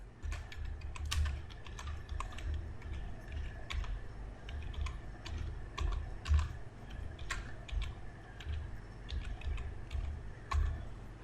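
Fingers type on a computer keyboard in quick, irregular bursts of soft key clicks, close and fairly quiet, with a low background hum underneath.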